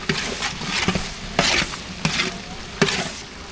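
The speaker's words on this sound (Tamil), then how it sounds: "புதினா மல்லி சேர்த்தாச்சு நல்லா கலந்து விட்டுக்கலாம்" Tomato with mint and coriander stirred in a hot pan, a spoon scraping in several distinct strokes over a steady close sizzle, with no voices.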